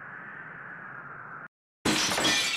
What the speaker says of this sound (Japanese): なんや今のは、ガラスの割れた音みたいやったけど